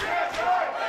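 A wrestling arena crowd at a Prestige Wrestling show roars in a steady, lively wash of cheering and shouting, sustained throughout with no distinct voice standing out.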